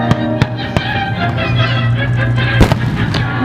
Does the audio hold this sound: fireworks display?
yes